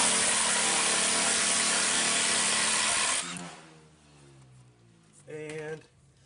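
An impact gun removes a 21 mm nut from an outer tie rod, a loud continuous buzzing burst for about three seconds, then quieter handling noise and a short second burst.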